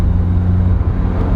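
A Ferrari 355 Spider V8 engine idles close by, a loud, steady low rumble held for a brief moment with no voices.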